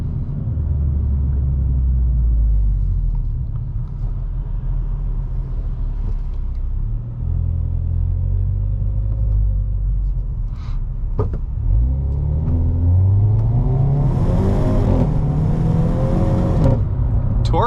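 A 2022 Hyundai Veloster N with a dual-clutch gearbox drones with a loud, low engine rumble inside the cabin, then its pitch climbs as it revs harder toward the end.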